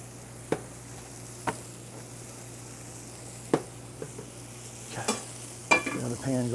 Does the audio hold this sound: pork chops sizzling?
yes